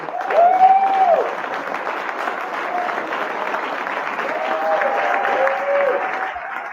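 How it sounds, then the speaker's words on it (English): Audience round of applause for award nominees during a live online stream: steady, moderately loud clapping with a few voices calling out over it. "I would like everyone to give them a big round of applause."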